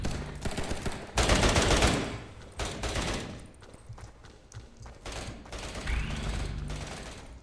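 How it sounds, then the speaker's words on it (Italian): Gunfire rattles through a round of the video game Code of War 2, with bursts of rapid automatic shots and scattered single cracks at moderate loudness and no talking. "Continuo a sentire spari ma non capisco dove sono messi."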